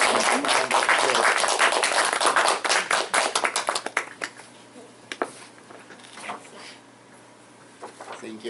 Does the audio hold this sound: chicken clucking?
no